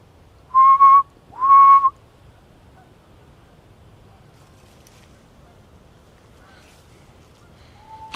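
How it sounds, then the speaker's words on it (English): Two short, clear whistled notes ring out close together in quiet woods at night while camping, followed by silence and a faint third whistle at the very end. "Something just whistled back up there."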